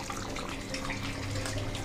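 Water splashes steadily into a pan of Mughlai chicken gravy as almond paste goes in, a continuous close pouring and splashing sound with no talking.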